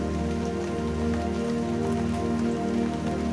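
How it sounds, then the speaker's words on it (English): Rain falls in a steady, dense patter on a surface, a continuous close hiss of drops with no voices. "Listen to the sound of the rain."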